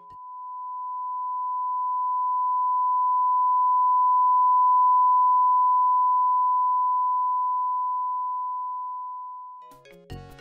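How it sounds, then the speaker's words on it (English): A long steady test beep from the video game Baldi's Basics holds one unbroken pure tone for nearly ten seconds, swelling gently louder toward the middle, then cuts off into a brief clatter of noise at the end. "It's, basically just a really long beep"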